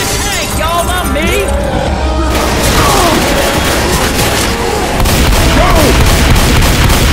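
Gunfire and booming blasts from survivors shooting at the Tank in the Left 4 Dead 2 Parish campaign, a dense, loud, continuous barrage with crashes and a shouted voice over the top.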